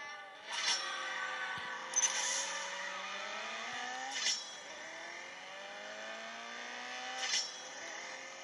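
A Golf GT engine revs in the racing game CSR Racing 2, rising through gears with climbing whines and short sharp bursts at each shift, loud and steady throughout.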